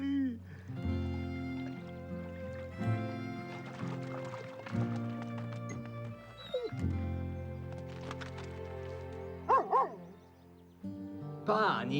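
A dog barks and yips amid busy movement and running sounds, with voices talking over much of it and a few higher whimper-like cries near the end.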